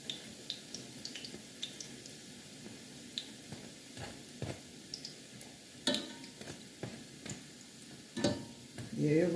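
Dumplings fry in a cast iron pot on a turned-down stove flame, giving a quiet, steady sizzle broken by scattered ticks, pops and a few louder clatters of stirring.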